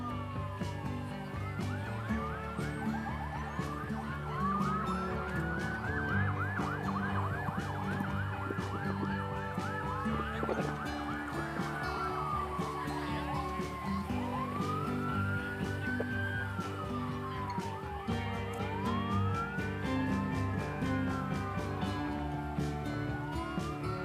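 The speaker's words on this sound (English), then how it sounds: "So I can hear the sirens coming down Tick Neck Road." Fire company sirens leading a community holiday parade down a road, several wailing sirens rising and falling in overlapping sweeps, steady and moderately distant, over a sustained low rumble of vehicles.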